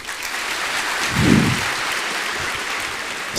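Crowd applause at a university orientation event, sustained and even throughout with a brief swell near the middle, no voices over it.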